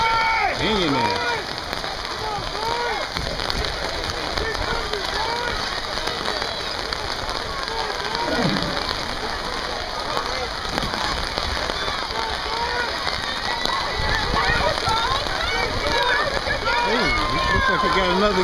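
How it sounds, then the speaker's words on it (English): Heavy rain drumming steadily on an umbrella outdoors, a dense continuous patter that stays loud throughout, with scattered voices calling out beneath it. "That's the rain you hear on my umbrella."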